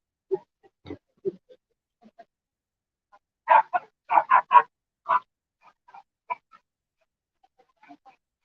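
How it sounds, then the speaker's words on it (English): A small dog barks in scattered, sharp yips, with a quick burst of four or five close together midway, near and moderately loud over a quiet outdoor setting at a motorcycle rally. "Bark, bark, bark."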